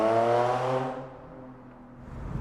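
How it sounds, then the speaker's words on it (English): A loud car sweeps past close by, its engine note strong at first and then fading as it moves away, with no talking. "Sometimes you're filming and a loud car drives by"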